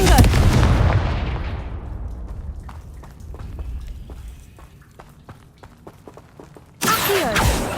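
A Confringo fire spell blast in Hogwarts Legacy opens with a loud booming burst that fades over a few seconds, followed by scattered faint clicks and a second sudden loud burst near the end.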